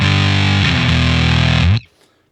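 A thick, saturated chord from an electric guitar played through a gated fuzz pedal rings loud and steady, shifts once partway through, then chops off abruptly into silence as the gate closes.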